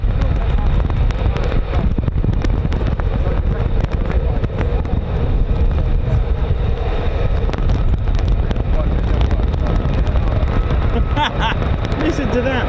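Strong wind buffets the microphone at a US Air Force fighter airbase, RAF Lakenheath, in a steady, loud roar with low rumbling gusts throughout.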